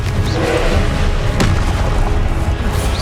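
A Confringo spell explosion in Hogwarts Legacy rolls out as a loud, sustained low booming rumble with one sharp crack in the middle, and nobody speaks.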